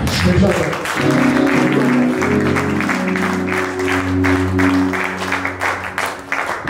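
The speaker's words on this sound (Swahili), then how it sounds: "Pigia Yesu makofi" A church congregation claps rhythmically in praise of Jesus during a service, steady clapping layered over sustained keyboard or organ tones, with voices present throughout.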